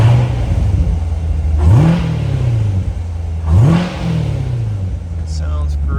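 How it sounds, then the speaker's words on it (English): A 2015 Corvette C7 Z51 engine revs twice, each burst rising sharply then winding back down to a steady idle, close and loud. "Let me give it a couple of revs for you guys."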